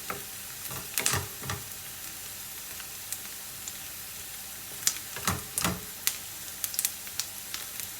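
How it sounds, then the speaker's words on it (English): Anglo-Indian chicken curry frying in a pan, a soft, quiet sizzle broken by a few short sharp crackles and spits, probably from stirring. "So we have to fry this quite well."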